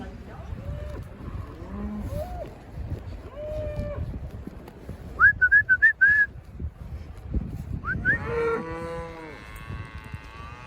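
Several cows moo in drawn-out, low calls from a holding pen, some near and some farther off, with a burst of whistling in the middle and faint voices.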